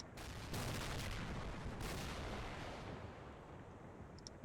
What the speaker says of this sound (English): And that was an explosion